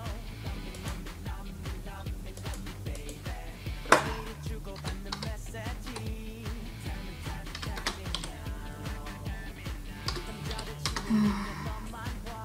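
Steady typing on a computer keyboard, rapid close key clicks in continuous bursts with one louder tap partway through.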